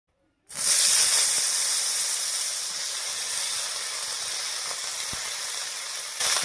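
Eggplant frying in hot oil previously used for frying fish, a loud continuous sizzle and hiss that starts abruptly and holds steady close up, with a few faint clicks and no talking.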